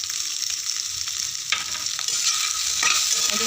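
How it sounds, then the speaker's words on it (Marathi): A fasting-dish mixture with salt and coconut is stirred in a hot pan: a close, bright sizzling hiss with a couple of distinct scraping strokes partway through. "आणि ते सगळं मिक्स करून घेऊया।"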